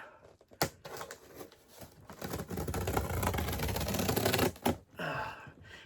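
A blade slices through tape and cardboard on a G&G ARP9 airsoft gun shipping box from Evike, making close, loud scraping and crinkling bursts that rise into a sustained tearing rip, then a short rustle after a pause.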